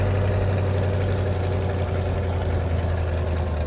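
Engine of a 1933 Ford three-window coupe street rod idling steadily, a loud, deep, even rumble close by that holds throughout with no talk.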